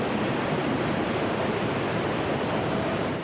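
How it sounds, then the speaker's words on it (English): A tsunami wave in Japan pours over a seawall as a continuous, dense roar of rushing water, loud and unbroken throughout. "The wave poured over a seawall and across a road."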